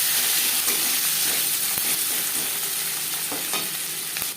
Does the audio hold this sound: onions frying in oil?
yes